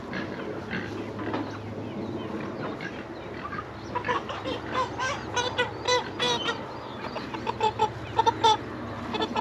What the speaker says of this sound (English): Want to catch a chicken?